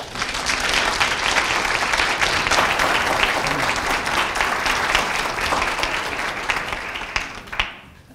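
An audience at a law school fireside chat applauds to welcome Dean Gillian Lester, steady dense clapping from a full room that tapers off near the end.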